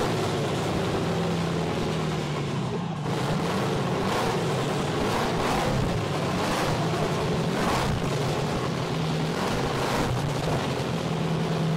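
A custom VW Beetle special with a turbo, four-barrel 600 carburetor and a straight pipe with no silencer roars loudly and continuously close by, a dense, rough exhaust rumble with pulsing revs through the whole stretch, no talking.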